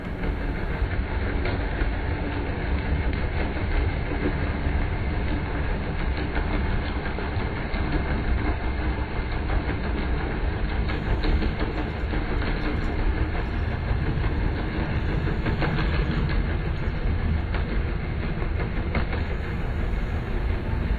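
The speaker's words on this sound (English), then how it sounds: "This is the sound of a ship." A steady, low underwater rumble of a ship's engine and machinery, droning continuously with faint rhythmic knocking.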